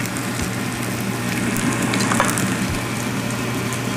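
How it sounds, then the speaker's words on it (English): Polenta sizzles and fries steadily in melted butter in a pan, a close, dense crackle with a few soft pops and no talk over it. "When the butter's all melted, you can go ahead and add the polenta right into it."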